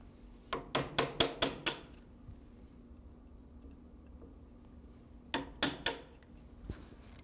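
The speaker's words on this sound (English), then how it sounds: "I'm going to take my chisel and just use it to split the bulk of the waste out by going along the grain here." Wood chisel splitting waste along the grain while cutting a rabbet joint: a quick series of five or six sharp, close taps, a quiet gap, then three more strikes, over a faint steady background hum.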